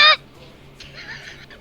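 A player imitates a bird's honk for a bird-like Aarakocra character at a Dungeons & Dragons table: one short, loud, nasal goose-like honk at the start, followed by quiet room tone and a faint breathy sound.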